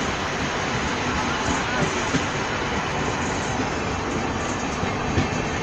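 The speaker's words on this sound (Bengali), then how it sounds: "আমরা ছেড়ে দিচ্ছি এখন চালসা স্টেশন থেকে" A train pulls out of Chalsa station with a loud, continuous rumble and wheel roar, steady throughout and heard close up from on board.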